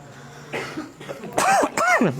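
A couple of harsh coughs close by, following a short stretch of speech and ending in a strained, rising vocal sound.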